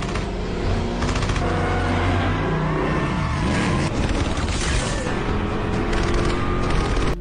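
A movie car chase roars on with revving engines and a dense rattle of gunfire, loud and chaotic, layered with booms and a tense music score filling the whole stretch.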